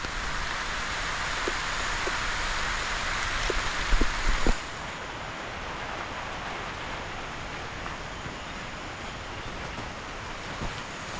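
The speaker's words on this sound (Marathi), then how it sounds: "पावसाला परत सुरुवात झालेली आहे. तर आता आम्ही कॅमेरे गुंडाळून ठेवतो कारण जोरात आहे पाऊस." Heavy rain pours steadily at the Bedse caves, a dense broadband hiss that grows louder for a few seconds, then drops sharply to a softer, even patter with a few scattered drips.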